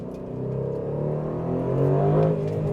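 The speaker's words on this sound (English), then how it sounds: "there's the titanium exhaust, which just sounds absolutely incredible" Aston Martin DB12 S with a titanium exhaust, its deep, rumbling bass note swelling steadily as the engine pulls, heard briefly and up close with no talk.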